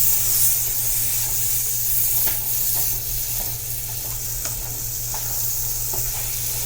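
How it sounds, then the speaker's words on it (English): Vegetarian taco meat sizzles and fries in a pot for a Tex-Mex veggie bowl while it is stirred. A steady, close hiss of frying carries soft scraping stir sounds at intervals, with a low hum beneath and no talking. "Just gonna give it a good stir."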